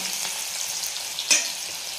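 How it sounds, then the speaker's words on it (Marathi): Green chilies frying in hot oil in a pan for sabudana khichdi, a steady soft sizzle with one brief clink partway through, moderately quiet and close. "हिरवी मिरची टाकणार आहे. एक काही सेकंद फक्त फ्राय करून घ्यायचं आहे आपल्याला."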